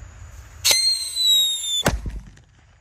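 Two sharp firecracker bangs from a Blackbuster firecracker about a second apart, the first trailed by a high whistling squeal, followed by brief crackling debris sounds.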